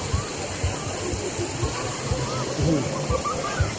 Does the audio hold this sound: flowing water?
yes